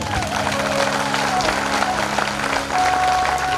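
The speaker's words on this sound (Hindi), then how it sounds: "तालियों की गड़गड़ाहट अगर होनी चाहिए तो बड़े भैया दीपक भैया के लिए होनी चाहिए।" Applause from the audience at a Shree Bhagwat Katha Mahapuran gathering, a dense, steady roll of clapping that carries loudly throughout, with tonal sounds running underneath.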